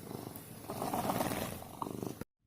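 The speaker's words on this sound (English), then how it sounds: "this is my cat, who very desperately wants attention" A house cat wanting attention purrs close to the microphone in a steady rumbling rhythm for about two seconds before the sound cuts off abruptly.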